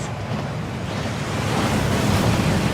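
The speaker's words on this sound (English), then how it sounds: "That waterfall washes away all enchantments." Rushing waterfall at Gringotts bank in Hogwarts Legacy, a continuous loud roar of falling water that builds slightly and steadily, heard close with no talking.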